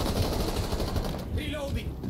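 Dense automatic gunfire in the game Rainbow Six Siege, loud and continuous rapid shots with game sounds layered underneath, and a voice talking over it.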